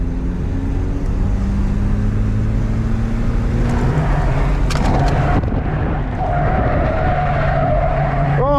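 Stock Volvo 740 drifting, its tires skidding and squealing almost continuously over steady engine roar, a long rising screech building in the second half, loud and close with no talk.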